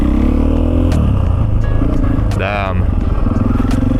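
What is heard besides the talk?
Husqvarna FE450 motorcycle revving during a wheelie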